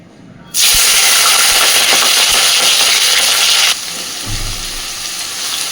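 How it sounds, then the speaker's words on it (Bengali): Potatoes, carrots, capsicum and onion hit hot oil in a pan with a sudden loud burst of sizzling that roars steadily, then drops to a quieter bubbling fry with a clink of the utensil near the end. "সবজিগুলো এবার খুব সুন্দর করে আগে ভেজে নেব।"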